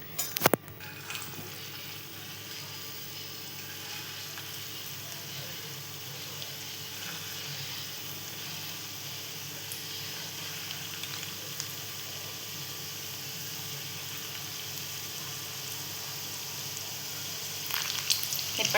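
Potato fingers fry in hot oil with a steady, soft sizzle throughout, a low bubbling hiss with no talking over it.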